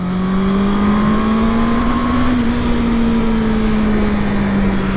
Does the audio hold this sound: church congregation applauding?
no